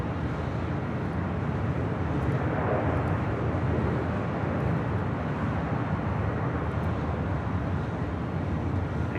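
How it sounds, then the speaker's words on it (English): An EVA Air Boeing 777-300ER jet departs Los Angeles International Airport, a steady broadband engine roar that holds loud and even throughout with no voices. "EVA Air Flight 5 departing to Taipei on a 777-300ER."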